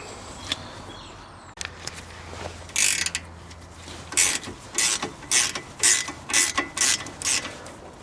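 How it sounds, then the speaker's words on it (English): A ratchet with a 17mm socket loosens a brake bolt on a 2010 UK-spec Mazda 3. After a few faint knocks, it settles into a rhythmic run of loud, crisp clicking bursts. "these bolts take a 17mm socket. So I just put that on there and open it up."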